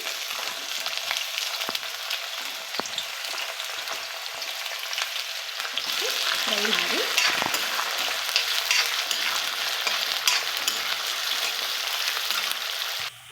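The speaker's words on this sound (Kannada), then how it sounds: "ಒಂದು ಸ್ಪೂನ್ ಕಡಲೆಬೇಳೆ ಒಂದು ಸ್ಪೂನ್ ಉದ್ದಿನಬೇಳೆ ಹಾಕಿ ಫ್ರೈ ಮಾಡಿ" Chana dal, urad dal and onion frying in oil, a steady sizzle throughout with occasional stirring scrapes, growing slightly louder partway through, no talking.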